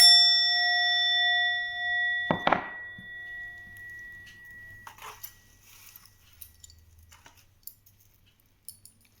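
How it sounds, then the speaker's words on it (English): A Tibetan singing bowl is struck once, giving a loud metallic clang with sustained pure ringing tones that fade over several seconds, followed by faint scattered taps and rustles. "I want to sound the Tibetan singing bowl."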